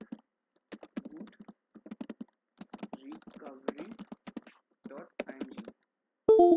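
A computer keyboard is typed on in bursts of crisp, close key clicks with short pauses between groups, as a command is entered.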